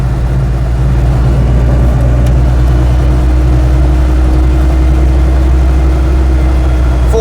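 An Invacar invalid carriage drives along at 30 miles an hour, a loud, close, droning engine hum with steady low rumble and faint rattles, continuous throughout with no talking.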